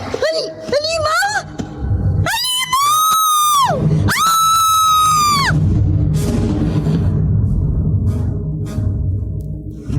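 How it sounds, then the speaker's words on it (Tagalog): Shrill human screams ring out at night in a horror drama about a monster, starting with short cries and then two long, loud wailing bursts over a rumbling crowd-like din. "Sa gabi yun, doon nagmula narinig natin sigaw."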